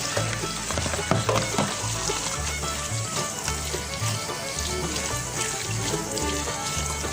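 Wild jujube fruits are rinsed in a basin of water, making steady, close splashing and sloshing that runs unbroken throughout, with low, rhythmic thumps underneath.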